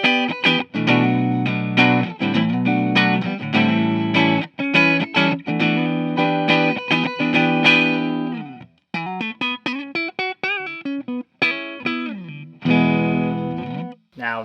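A 2018 Gibson SG electric guitar with P90 pickups, played on the neck pickup, gives a warm, round tone: strummed chords and picked notes ringing continuously, a few short pauses toward the end, loud and close.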